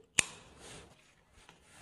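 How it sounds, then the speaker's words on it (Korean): Scissors trim leaves off taro stalks with one crisp, close snip, followed by near silence and a faint small tick. "가위로 토란잎을 제거하고요"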